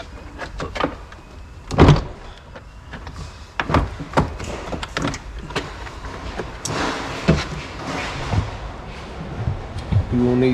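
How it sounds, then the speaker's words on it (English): A Mercedes Vito door card is lifted upward and unhooked from the door lip, making close plastic clunks, creaks and rattling knocks in irregular bursts, with scraping in between. "you lift the door card upwards so it unhooks from the top of the lip on the door."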